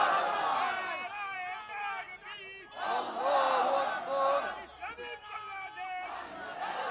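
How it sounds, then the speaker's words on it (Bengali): A large crowd at an outdoor political rally in Bogura shouting the Islamic takbir in unison: loud, surging chanted waves that rise and fall several times, with rough crowd noise between them. "জোরে তাকবীর হবে, নারায়ে তাকবীর"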